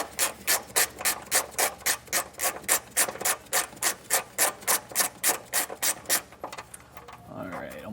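Hitch mounting bolts are worked loose from the frame of a 2015 Dodge Durango, giving a steady run of about twenty-five rapid rasping ratchet strokes that stop near the end, followed by a quieter scraping.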